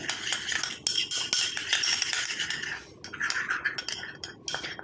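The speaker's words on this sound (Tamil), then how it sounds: "நல்லா இந்த மாதிரி மிக்ஸ் பண்ணிக்கோங்க நல்லா மிக்ஸ் பண்ண மிக்ஸ் பண்ண ஒரு க்ரீம் கன்சிஸ்டன்சிக்கு வந்துடும்" Fenugreek paste being stirred into a smooth cream in a bowl, with steady close scraping and clinking of a spoon against the dish, continuous with brief pauses.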